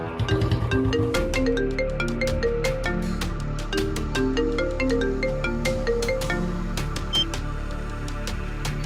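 A mobile phone rings on and on with a bright, melodic ringtone, looping steadily and going unanswered, with no voices over it.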